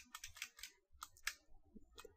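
Computer keyboard typing a Metasploit console command: quick bursts of crisp key clicks in uneven clusters, close and moderately loud, with short pauses between keystrokes and no talking.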